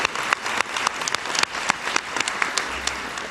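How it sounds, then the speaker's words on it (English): A large audience applauds at the 2023 NYSID commencement ceremony: dense, steady clapping from many hands, fairly close and loud, with individual claps popping out of the wash and no talk over it. "So let's give them all a huge round of applause."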